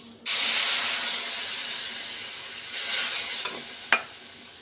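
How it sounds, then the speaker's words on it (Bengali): Water poured into a hot pan of frying semolina almond halwa sets off a sudden loud sizzling hiss that slowly fades, with a few stirring clinks near the end. "চলুন এবার আমি জলটা দিয়ে দেবো।"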